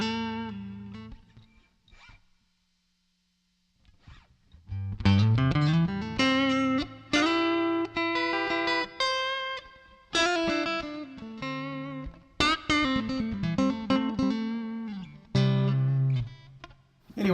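Electric guitar played through a Joyo JF-13 AC Tone pedal set for a mild blues drive with boosted mids, ringing single notes and chords in loud, sustained phrases after a brief quiet pause.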